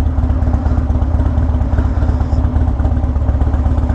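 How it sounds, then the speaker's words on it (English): A Harley motorcycle idles loudly and close during refueling, its engine thumping in a steady low lumpy rhythm with light mechanical clatter, alone with no talk. "I'm such a rebel gassing up the bike with it still running"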